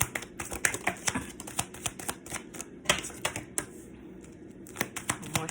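Rapid papery riffling and clicking bursts of tarot cards being shuffled up close, in quick irregular flurries with brief pauses between.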